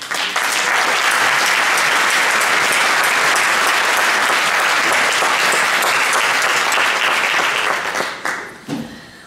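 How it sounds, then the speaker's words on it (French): Audience clapping at the opening of a Mediterranean regional programme event, dense and loud, sustained steadily for about eight seconds before thinning out and fading at the end. "Je crois qu'on peut encore les applaudir."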